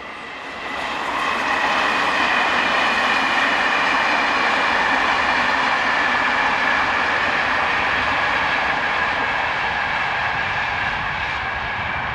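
Locomotive number 22325 hauls a westbound train for Toulouse, the 06:15 from Montpellier, past at speed. A loud, steady rumble and rush of wheels on rails rises quickly and then holds unbroken.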